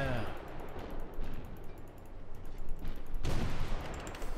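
Naval guns fire in World of Warships in a steady barrage of dull, muffled booms with a sharper volley near the end, under a constant low rumble and some speech.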